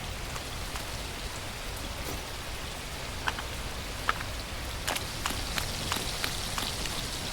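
Steady rain falls in an open-world survival video game, a constant dense hiss with scattered sharper drop impacts, heard alone with no voices.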